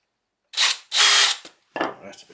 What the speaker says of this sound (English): So I have my drill here ready.